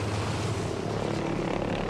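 Propeller airplane engine in the video game Battlefield V, a loud, steady droning roar that holds close and continuous for the whole short stretch, with no talk.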